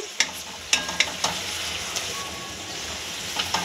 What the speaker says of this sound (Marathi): हा कांदा परतून घेतोय मित्रांनो.